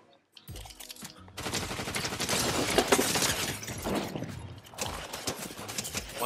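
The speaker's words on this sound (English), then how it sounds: "Someone's shooting at me." Rapid bursts of gunfire in a shooter video game, loud and dense for most of the stretch, rattling in quick overlapping volleys after a short quiet opening.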